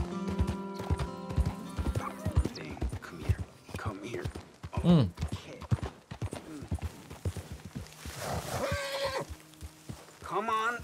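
Horse hooves clip-clop steadily in Red Dead Redemption 2, a close, rhythmic trot under game music, with a horse whinnying once and someone talking over it.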